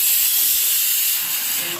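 A pressure cooker cooking rice lets out steam, a loud, steady hiss filling the whole moment and easing off slightly toward the end.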